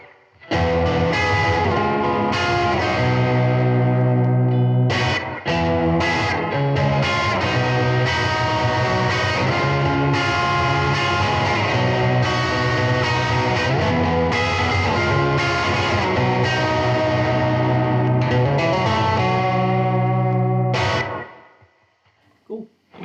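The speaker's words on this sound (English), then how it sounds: "Let's hit it with a little bit of delay." A Fender Player II Telecaster electric guitar plays chords through a delay effect, loud and sustained with echoing repeats, cutting off near the end with a brief final strum.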